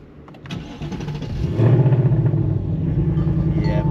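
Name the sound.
2024 Ford Mustang GT with Steeda H-pipe starting up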